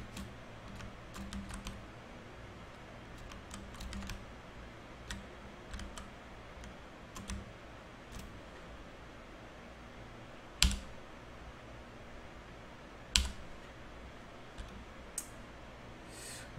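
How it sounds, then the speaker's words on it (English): Computer keyboard keys pressed in a game during a dev stream, soft close clicks scattered irregularly over a quiet room, with a couple of sharper louder taps. "I'm technically playing the game right now, moving around with WASD with the player controller."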